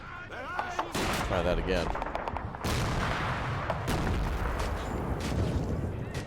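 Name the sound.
grenade explosion and gunfire in Men of War: Assault Squad 2 video game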